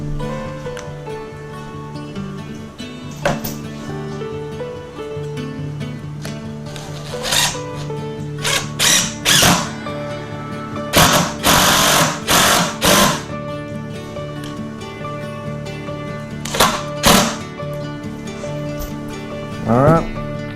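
Cordless Dewalt drill driving screws into a pallet-wood workbench, several short whirring bursts spread across the span with quiet gaps and handling knocks between them, close and moderately loud.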